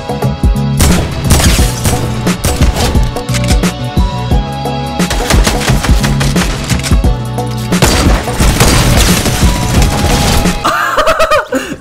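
A minigun fires in the Fortnite video game as loud, dense bursts of rapid gunfire. Several sustained volleys are separated by short pauses, with a game sound at the end.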